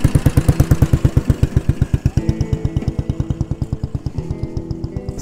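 Royal Enfield motorcycle idling close by outdoors, a loud, regular thumping single-cylinder beat of evenly spaced pulses that briefly quickens with a small blip of throttle before settling back.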